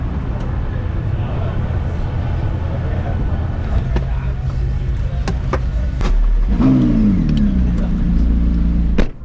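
A McLaren P1 hypercar accelerates at a track meet, its engine a loud, steady drone that swells into a rising rev near the end, with people talking over it.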